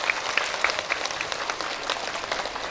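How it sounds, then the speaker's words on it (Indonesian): An audience at a large religious gathering for a Quran school graduation claps together, a steady dense patter of hands with a few sharp whistles early on, sustained evenly throughout. "Untuk itu Ela minta kasih tepuk tangan dulu dong untuk semangat kita semua."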